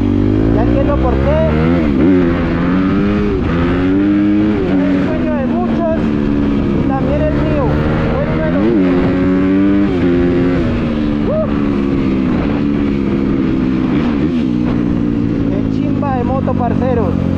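A Honda CRF 250 motorcycle revs hard at full throttle through rising and falling gear pulls, loud and close throughout, with someone talking over the engine.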